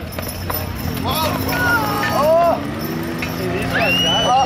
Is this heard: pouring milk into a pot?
no